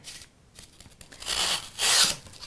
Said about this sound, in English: I want to just trim off these corners just like this